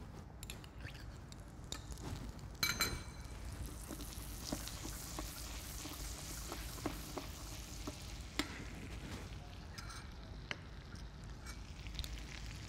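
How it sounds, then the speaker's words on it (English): Butter browning in a hot pan for a Scandinavian dish, giving a steady crackling sizzle throughout with scattered sharp pops and spatters, close and continuous with no voices. "As you can see, the butter getting browner and browner."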